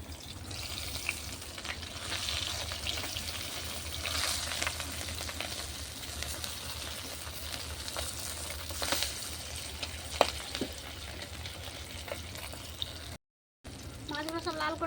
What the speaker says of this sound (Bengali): আগে এক এক করে মাছগুলো দিয়ে দেবো, ভেজে নেবো।